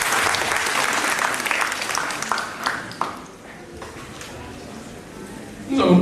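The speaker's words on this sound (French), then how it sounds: "Applaudissez-le." Applause from an audience at a live public event in Côte d'Ivoire, dense steady clapping that gradually thins and fades over several seconds before a voice and a microphone bump cut in at the end.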